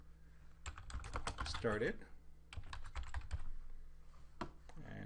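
Computer keyboard typing in quick bursts of clicky keystrokes, with a short pause midway, fairly close and clear, while a voice talks faintly in the background.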